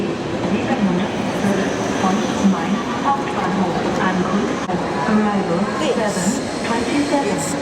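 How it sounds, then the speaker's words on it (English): A train rumbles past at a steady, continuous roar, with low mechanical drone and scattered squeaks and rattles throughout. "This is a type of train we want, except this isn't our train."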